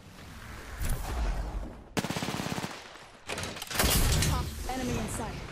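Gunfire in Apex Legends: a rapid automatic burst followed by a second flurry of shots, loud and close, with players talking in between.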